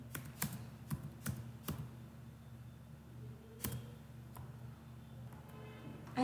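Soft, close keystrokes tap out an irregular run on a computer keyboard in a quiet office, clustered bursts with short pauses between.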